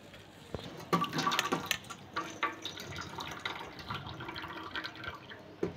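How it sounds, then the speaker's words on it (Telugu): Water is drained off freshly pressure-cooked black-eyed peas, a quiet, uneven trickle with soft splashes and drips clustering in short bursts, close by and without talk. "వాటర్ అంతా డ్రైన్ చేసుకుంటాను."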